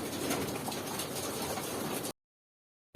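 Pigeons coo softly while eating feed, a brief, close burst of murmuring bird sounds over a rustling, noisy background that cuts off abruptly into silence.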